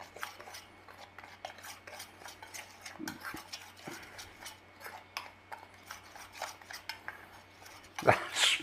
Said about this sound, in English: Let's just give it a little mix through.